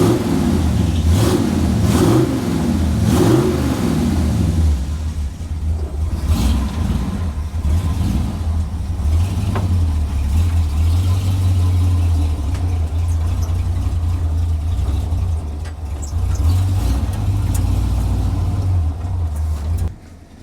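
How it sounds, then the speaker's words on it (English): A 1929 Ford Model A hot rod shop truck engine with a dirty carburetor revs and then idles a little low, a loud, close, continuous rumble with uneven bursts early on, and no talk. "It's idling a little low."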